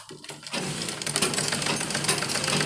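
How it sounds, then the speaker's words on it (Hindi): Sewing machine running steadily on the belt seam of a women's churidar pajama, a close, continuous rapid stitching whir after a brief quiet start. "आधा इंच की सिलाई लेते हुए सिलाई लगा देंगे जोड़ में।"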